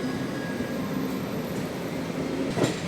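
A MEMU train rolls into the left-side line at Nidadavolu junction, a steady close rumble of wheels on rails heard from on board, with a brief squeal near the end and no talking.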